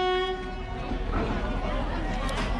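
A train at a railway station in Vietnam, on a short local line, sounds a sustained horn tone that fades into a steady rumble, with voices faintly underneath.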